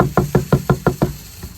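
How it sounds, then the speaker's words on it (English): Six or seven quick, evenly spaced hollow knocks strike a chicken feed storage barrel, close and loud, forming a brisk steady rhythm that stops abruptly. "I've noticed if I knock the barrel, it flies out everywhere."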